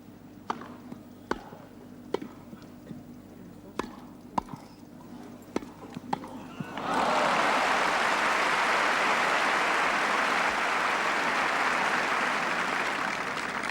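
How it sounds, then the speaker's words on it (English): At a 1977 Wimbledon semi-final between Borg and Gerulaitis, scattered single claps give way to a sudden, sustained burst of loud crowd applause that fills the rest of the stretch. "Almost every point, every rally has brought forth a tremendous burst of clapping"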